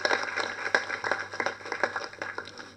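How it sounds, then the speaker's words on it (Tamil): Applause at a film press meet, a small audience clapping in quick uneven bursts that thin out and fade toward the end, fairly quiet and close. "அவருக்கு ஒரு கைத்தட்டல் கொடுத்துடலாமே யங்ஸ்டர்ஸ்"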